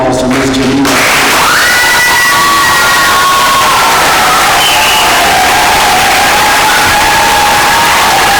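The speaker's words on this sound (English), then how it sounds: "Can we please give a round of applause to Ms. Jemela?" A loud crowd cheers and whoops continuously, with excited shouting and some clapping mixed into a dense wall of noise, applauding a student's senior thesis presentation.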